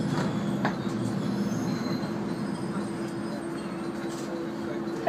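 The Shinpei sightseeing train pulls into a mountain station on the Hisatsu Line. Its wheels squeal steadily on the rails under a continuous rumble, while a voice speaks over the noise inside the carriage.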